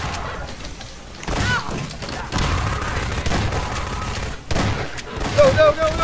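Shotgun fire in a cooperative Half-Life 2 session: several booming gunshot bursts over ongoing game combat noise, with players talking and yelling throughout.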